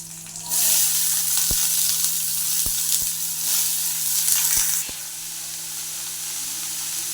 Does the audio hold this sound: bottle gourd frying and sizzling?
yes